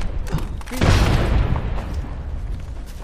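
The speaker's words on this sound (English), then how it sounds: "Watch out for the grenades." A grenade blast in the battle royale game Apex Legends: one loud, close boom that breaks out suddenly and then rumbles and fades over a couple of seconds.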